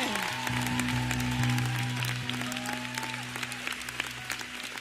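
Church congregation applauding, a steady wash of clapping from many hands that fades slightly toward the end, with a faint tone held underneath.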